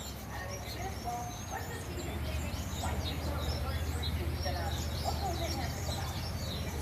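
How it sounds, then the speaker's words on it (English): Many birds chirp and call together inside the large walk-through Woodland Aviary at the San Diego Zoo, a steady busy chorus of overlapping tweets over low background rumble and crowd murmur. "You can hear them all chirping."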